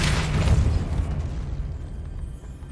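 A Depulso spell effect from a Harry Potter video game bursts out as a loud, booming blast that fades into a lingering rumble, with no voices.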